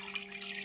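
Water is poured into a kadai set on an induction cooktop, giving a soft, steady trickling wash over a faint constant electrical hum, heard close and quiet with no talking.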